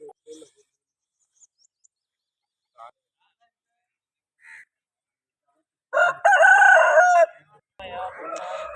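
A rooster crows loudly for about a second at a Sunday rooster market in Vijayawada, followed by more clucking and fowl calls amid a few faint scattered sounds.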